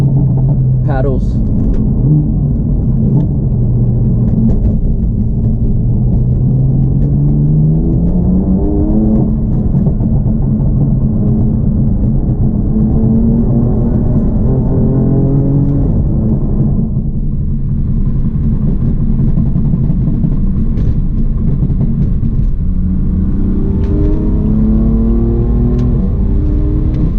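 A tuned BMW F80 M3 or F82 M4 with a burble tune and catless downpipe revs loudly up and down, with paddle-shift downshifts blipping the engine, close and continuous while a person talks over it.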